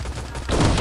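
Rapid gunfire in an online shooter game, a dense burst of shots that grows louder and fuller midway through, with no talking.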